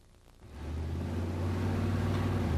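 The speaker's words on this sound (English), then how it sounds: "There's the 1-2 shift, the 2-3 shift, and finally the 3-4 shift." A car with a 4L60E automatic transmission accelerates from low idle, its engine rising to a steady, moderately loud drone that stays close and continuous without talk.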